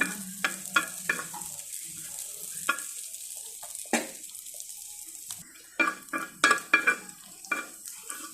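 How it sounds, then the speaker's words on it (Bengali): Chopped garlic frying in butter, a close crackling sizzle with repeated spatula scrapes against the pan coming in short bursts, and a brief lull partway through. "কিছুটা রসুন কুচি এটাকে আমি ভালো করে ভেজে নিব বাটারের মধ্যে"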